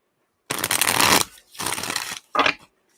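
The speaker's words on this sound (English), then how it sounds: "These cards shuffle so nice." Tarot cards shuffled by hand in three quick riffling bursts, close and crisp, each a second or less with short pauses between.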